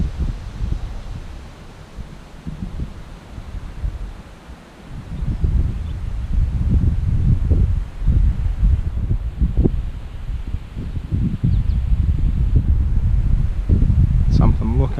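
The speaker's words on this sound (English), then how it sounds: "Wind's picked up a little bit more now too." Gusty wind blows outdoors during a fishing outing, a deep rumbling buffet on the microphone that rises and falls in waves, growing steadier and louder in the second half.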